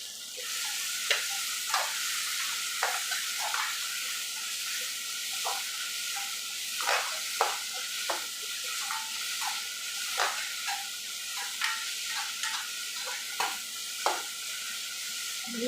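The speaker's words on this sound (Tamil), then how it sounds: "நல்லா வதக்கிக்கலாம் ஃப்ரெண்ட்ஸ்." Cashews and poppy seeds sauté in a pan for egg curry, a steady soft sizzle punctuated by regular sharp clicks and scrapes of a spoon stirring against the pan.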